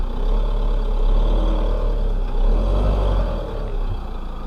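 A motorhome's engine rumbles steadily and heavily while the vehicle creeps forward to drive its front tire up onto a plastic levelling shim, a continuous close drone with slight surges.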